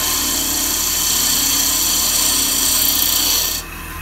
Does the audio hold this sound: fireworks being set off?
no